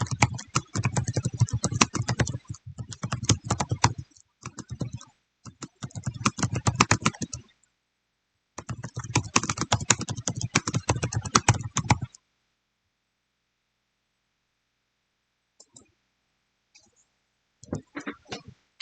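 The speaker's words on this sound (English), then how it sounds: "So let me just type in here in case." Computer keyboard typing in dense, rapid bursts of close key clicks, broken by pauses and a long stretch of silence near the end, then a few scattered taps.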